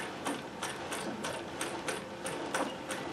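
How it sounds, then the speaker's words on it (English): A treadled Singer 411G sewing machine with a heavy custom balance wheel runs at a steady pace, giving quiet, evenly spaced mechanical clicks from the bobbin mechanism, close and alone. "You hear a bit more bobbin noise from here because it's a different type of bobbin mechanism."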